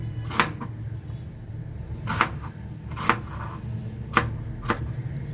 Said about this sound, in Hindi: प्याज को हमने ना ज़्यादा मोटा करना है, ना ही हमने ज़्यादा बारीक करना है। हमने दरमियानी साइज़ की बिल्कुल प्याज काटनी है